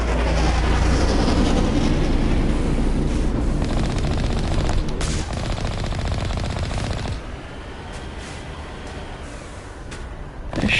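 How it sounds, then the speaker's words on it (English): Enemy gunfire in the Mass Effect video game, dense rapid automatic bursts chattering loudly and continuously, easing slightly in the second half before swelling again at the end. "They're shooting at me."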